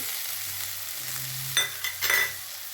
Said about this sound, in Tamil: இப்போ இதே நல்லா வதக்கணும் இதில் கொஞ்சோண்டு மல்லி